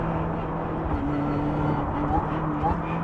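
An Ariel Nomad R with a 2-litre Honda engine accelerating through its sequential gearbox: a steady, dense engine drone heard from inside the car, constant and fairly loud for three seconds, with a voice talking over it.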